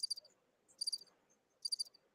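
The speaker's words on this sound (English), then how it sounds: "Where's the crickets?" Crickets chirp in three short rhythmic bursts of high trilling pulses, evenly spaced against near silence, used as a comic sound effect.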